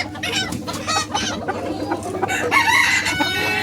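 Silver Mottled Cochin chickens cluck continuously at close range, with a rooster crowing in among the busy, overlapping calls.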